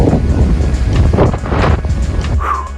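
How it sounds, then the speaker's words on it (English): Strong wind from a windstorm buffets the microphone in heavy, rumbling gusts, roaring continuously with no one speaking. "I survived the windstorm."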